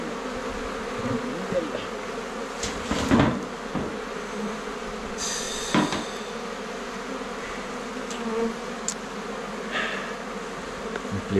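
Honeybees hum in a dense, continuous drone around an opened hive at Mafate, close and steady, broken by a few sharp knocks and rustles of hive handling.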